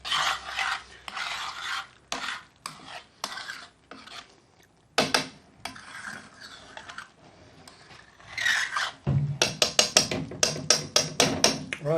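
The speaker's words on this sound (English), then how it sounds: "What I'll do is get a spoon, all that caramelisation around the pan," A metal spoon scrapes caramelised Madras curry from around the sides of a pan, giving bursts of scraping and clinking with brief pauses, then quicker, sharper taps and scrapes toward the end. No talking.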